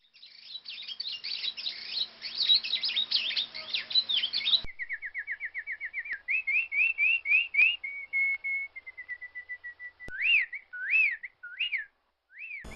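Small birds in an animated Panchatantra fable chirp and whistle while pecking grain: a dense, busy flock of high chirps, then a run of rapid repeated tweets and a few looping whistled calls, all close and clear with no talking.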